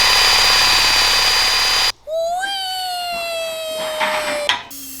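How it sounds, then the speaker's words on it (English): A power drill whines as it bores and taps holes in a DIY CNC laser cutter's metal frame, a steady high-pitched tone that shifts pitch as the bit bites, after a loud constant motor drone, fairly close. "Get those holes drilled and tapped."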